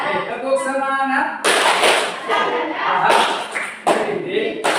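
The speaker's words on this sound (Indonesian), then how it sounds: "Tepuk semangat dulu ya" A seated group in an Indonesian school session performs a rhythmic spirit clap, with bursts of sharp patterned claps between stretches of voices talking and calling out.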